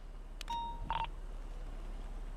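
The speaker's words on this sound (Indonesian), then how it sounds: "Sebentar, telepon mekanik dulu Pak ya." A GTA V phone dials a mechanic with a few short, clean touch-tone beeps, one held longer than the rest, then a brief higher chirp, heard alone against a quiet low hum.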